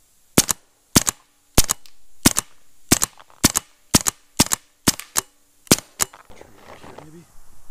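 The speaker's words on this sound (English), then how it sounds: "I might be shooting a little hot" Rebuilt Autococker paintball marker firing about a dozen sharp, crisp pops in a steady, slightly uneven rhythm, close and loud, followed by brief quiet talk at the end.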